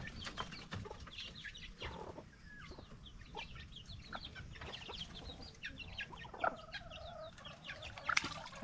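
Mother hens clucking softly at a distance on a farm, scattered low calls over faint ambient background.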